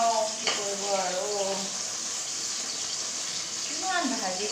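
Fish frying in a pan in a home kitchen, a constant bright sizzle of hot oil running throughout while someone talks over it.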